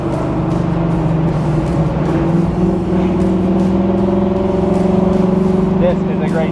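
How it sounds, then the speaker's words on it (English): A 1972 Chevrolet Nova SS Yenko tribute with a 350 V8 and 4-speed rumbles steadily from inside the car while driving, a low droning exhaust note with slight rises as the engine works. "What a great sound that exhaust makes."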